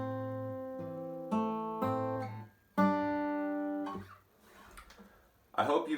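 Acoustic guitar fingerpicked alone, playing a song intro: clear plucked chord arpeggios ringing with bright overtones, a few distinct strummed-pick attacks, then a brief pause and a final pluck, close and moderately loud.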